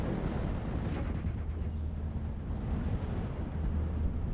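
Off-map air strike in the Steel Division: Normandy 44 wargame, hitting an infantry group. It comes through as a dense, continuous low rumble of blasts and booming impacts, steady and heavy throughout with no talk.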